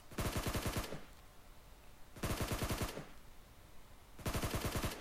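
Video game gunfire in a PUBG Mobile training room: three loud bursts of rapid automatic fire, each under a second long, separated by short pauses of near quiet, with no talking.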